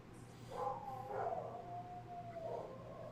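Several dogs howl in long, wavering tones that rise and fall across a few seconds, faint and somewhat distant with no voices.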